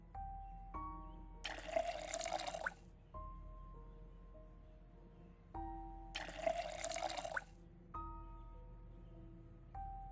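Water is poured and transferred into storage barrels in the Project Zomboid video game, two bursts of splashing and trickling liquid set against soft in-game tones and beeps, with no talking.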